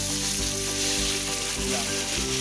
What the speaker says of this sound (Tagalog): Lalagay tayo ng konting tubig. Sunod natin yung tubig.